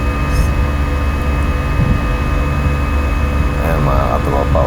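Inside a Cebu Pacific airliner in flight, the cabin and engines make a loud, steady, broadband drone that never lets up, with faint voices underneath.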